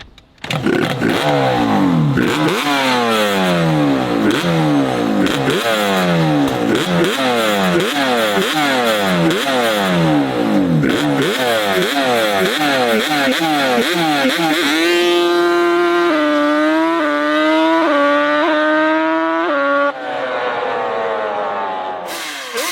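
A turbocharged Honda Civic pulls away and accelerates hard, its engine revving loud and close through repeated rising sweeps as it climbs through the gears, then holding a higher steady drone before easing off.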